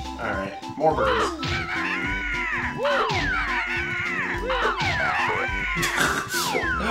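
Bird enemies in the Banjo-Kazooie level Click Clock Wood squawk and caw in repeated harsh, sweeping cries over game music and effects, loud and close.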